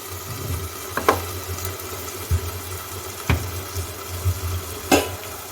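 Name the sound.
tomatoes cooking in a covered pan on low heat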